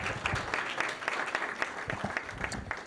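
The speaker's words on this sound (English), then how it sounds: "I want to give them a big round of applause" Moderate applause from a crowd at a legislative networking reception, steady clapping with a few sharper claps standing out, somewhat distant and even throughout.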